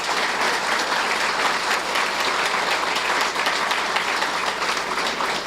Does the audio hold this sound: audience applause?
yes